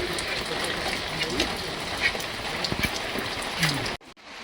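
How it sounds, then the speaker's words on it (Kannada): Rain patters down close by, with a continuous wash of hiss and scattered distinct drops and splashes, before stopping suddenly near the end. "ಮಳೆ ಬೀಳ್ತಾ ಇದೆ"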